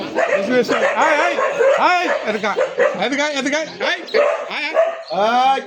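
A dog barks and yips repeatedly at close range, loud and excited, with a few whimpering tones mixed in and people talking over it.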